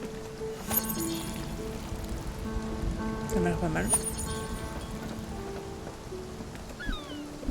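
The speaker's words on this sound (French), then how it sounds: "Je suis en pleine tempête, j'ai l'impression que ça passe." Steady storm rain pattering on surfaces in the video game Spiritfarer, a constant wash of drops with faint game tones, while a person talks briefly over it.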